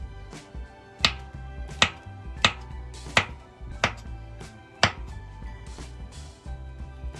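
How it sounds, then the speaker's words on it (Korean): A knife thuds sharply and steadily on a cutting board while garlic, onion and button mushrooms are sliced, about eight distinct close chops spaced under a second apart, with no talking. "제일 먼저 마늘을 썰어줍니다. 그 다음은 양파를 썰고 양송이버섯도 썰어줍니다."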